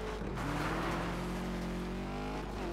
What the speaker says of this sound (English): Something's wrong with the engine.